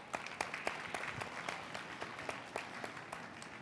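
Steady applause from a summit panel audience, many hands clapping continuously at moderate volume, with sharper individual claps standing out.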